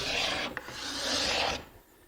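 A cabinet card scraper rasps across a wood board in two close strokes, each a dry, hissing scrape with a brief catch between them, then quiet.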